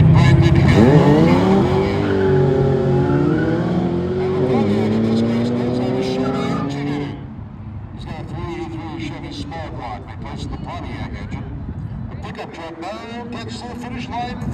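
Drag racing cars, a Ford and a four-cylinder against a V8, roar loudly near the start, then a second engine drones on more quietly, with an announcer talking over much of it.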